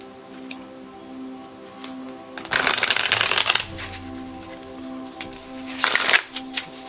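Tarot cards being shuffled by hand in two close, crisp riffling bursts, the first longer and the second shorter, with a faint ticking and a steady hum between them.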